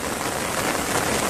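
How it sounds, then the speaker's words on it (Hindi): Steady rain falls in farm fields, a continuous broadband hiss without talk. "लग चुकी है बारिश, और बारिश में भी निकाल रहे हैं हम"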